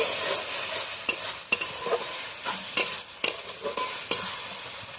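A spice paste is stirred and fried in a pan, giving a loud, continuous sizzle broken by sharp, repeated scraping strokes of the spoon at an irregular rhythm, with no speech.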